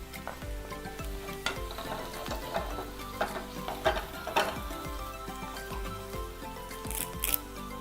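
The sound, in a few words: ginger and garlic frying in a pan for egg curry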